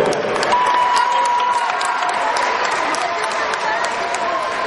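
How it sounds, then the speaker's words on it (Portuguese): Dense applause from a crowd honoring tumbling athletes at a gala, steady clapping sustained throughout, with some cheering and voices mixed in. "Uma salva de palmas então para o atleta João Amoedo"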